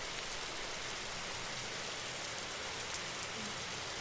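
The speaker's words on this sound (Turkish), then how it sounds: "Birazcık yağmur yağıyor." Steady rain in a video game falls with a dense, even hiss, moderately quiet and unbroken throughout.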